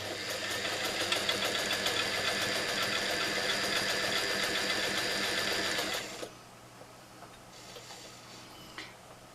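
A sewing machine stitches a canning mat in a steady, loud run of rapid mechanical ticking for about six seconds, then stops, leaving faint room noise with a small click near the end.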